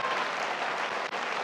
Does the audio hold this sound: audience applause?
yes